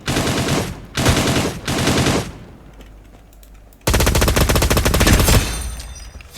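Shooting in a video game: loud bursts of rapid automatic gunfire in three short volleys, a brief lull, then a longer sustained burst.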